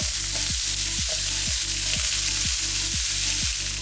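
Minced ginger and diced green pepper fry in a hot oiled pan with a steady, loud, continuous sizzle and a faint regular pulsing underneath.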